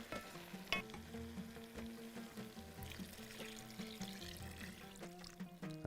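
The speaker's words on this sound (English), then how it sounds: "Now I'm going to add water." Water is poured into a pan of chicken frying over medium heat while cooking Bahraini chicken machboos. A continuous sizzle and bubbling rise as the water hits the hot pan, with a few clinks of a utensil and no talking.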